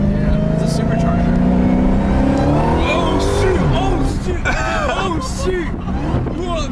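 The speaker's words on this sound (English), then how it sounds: "It's a supercharger." A supercharged car engine revs hard and accelerates close by, its rising and falling harmonic whine sweeping up and down while several people talk and exclaim loudly over it.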